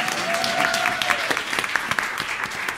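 Audience applause at a supportive housing leadership program, a brisk round of clapping with individual claps standing out, fairly close, with a brief voice at the start.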